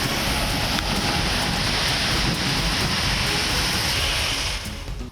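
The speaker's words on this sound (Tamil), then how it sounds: "சென்னையின் பல்வேறு பகுதிகளில் அதிகாலையில் கனமழை." Heavy early-morning downpour with thunderstorms over Chennai, a steady loud wash of rain and wind noise roaring continuously, with no distinct thunderclap standing out.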